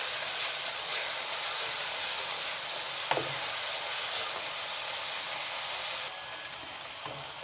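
Ginger garlic paste fries in a pan with a steady, close hiss and sizzle, with a brief stir or clack partway through.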